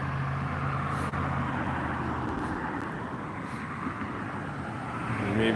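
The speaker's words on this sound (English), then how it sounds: "You may be hearing car noise." Steady car noise from a road vehicle, a continuous broadband rumble and hiss that stays fairly even and moderately loud throughout, with no talking.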